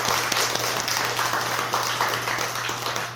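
A congregation at a Buddhist Sunday dharma talk applauds, giving a few seconds of steady, even clapping over a faint low electrical hum.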